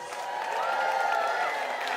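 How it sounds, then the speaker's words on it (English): Applause and cheering from a live studio audience at a Purim comedy taping, a dense steady wash of clapping and crowd noise that holds evenly throughout. "Give yourselves a round of applause."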